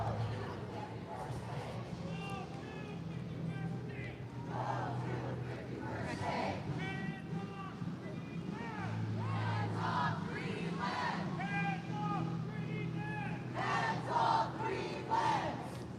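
A large crowd at a No Kings protest rally in Vancouver shouts and chants together, voices rising and falling in repeated waves of loud, massed yelling throughout.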